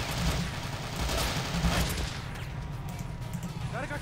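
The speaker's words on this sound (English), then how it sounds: "My mortar's doing some work." Mortar fire in the video game Men of War Assault Squad, with booming blasts mixed into dense, continuous battlefield gunfire and crackling explosions heard up close throughout.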